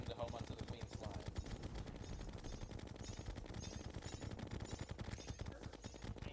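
Chlorophyte bullets fire in rapid homing bursts during a Queen Slime boss fight in Terraria, a dense, continuous stream of quick gunfire pops layered with game music and effects at steady loudness.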